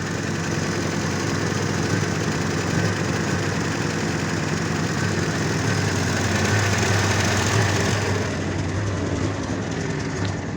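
A GAZelle van engine idles with misfiring cylinders, giving a steady, loud, rough drone that runs unbroken and close by, with no talk over it.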